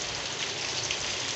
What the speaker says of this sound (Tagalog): until now ay umuulan pa din